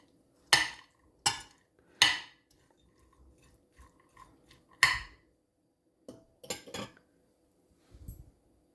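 A spoon clinks against a bowl while black-eyed bean chaat is mixed, three sharp metallic knocks followed by soft scraping and a few more clinks, close and otherwise quiet.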